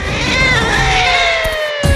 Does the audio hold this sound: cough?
no